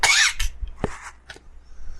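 A person coughs a few times in close succession near the mic, with a harsh burst followed by shorter, quieter coughs and a throat-clearing sound, with no talk over them.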